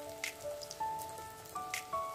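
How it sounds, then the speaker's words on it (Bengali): Onion pakoras coated in ground masoor dal batter frying in medium-hot mustard oil, a soft steady sizzle with light crackling pops, quiet and close, with faint background tones. "এবার একে একে আমি পেঁয়াজিগুলোকে ছেড়ে দেবো।"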